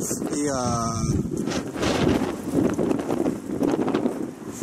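Wind buffets an outdoor microphone in Paris ahead of a storm, a low rough rumble running through the whole stretch, with a person talking over it at the start.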